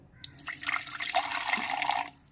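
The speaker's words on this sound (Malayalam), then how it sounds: "ആ മിക്സിയിലേക്ക് കുറച്ച് വെള്ളം ഒഴിച്ചു കൊടുക്കാം." Water poured into a mixer grinder jar, a short splashing gush that swells and then stops after about two seconds, close by.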